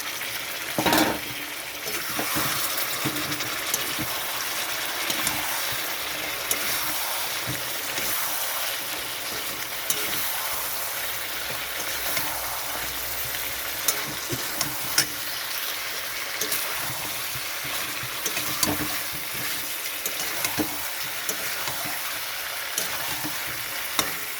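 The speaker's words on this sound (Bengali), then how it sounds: "এখানে অল্প একটু জল দিয়ে দিচ্ছি ভালোভাবে কষানোর জন্য।" Chicken malaikari masala sizzles steadily in a pan with a little water, a loud, close, continuous frying hiss broken by frequent spoon scrapes and clicks of stirring throughout; no voices.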